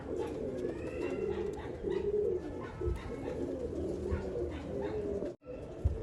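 A breeding pair of Hazar wali pigeons, the hen sitting on eggs, coo steadily and closely in a continuous, layered warble with a brief interruption near the end.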